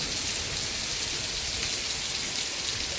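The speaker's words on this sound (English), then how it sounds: "It's still raining." Heavy rain pours steadily during a storm in south-east London, a dense, constant hiss of drops close by with no voices.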